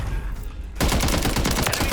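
Gunfire in the Warzone video game erupts after a short quiet lead-in, a dense burst of rapid loud shots continuing to the end.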